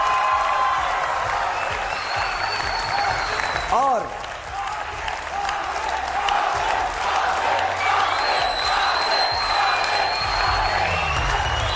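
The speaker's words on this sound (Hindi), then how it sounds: "भरपूर इसमें तालियां होनी चाहिए।" Studio audience at a Ramadan television game show applauding and cheering, a loud continuous roar of clapping with scattered whoops, and a voice briefly calling out through it.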